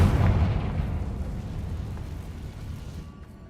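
A Confringo spell explosion in Hogwarts Legacy on PC: a single deep boom at the start, then a long rumbling decay that fades out over a few seconds.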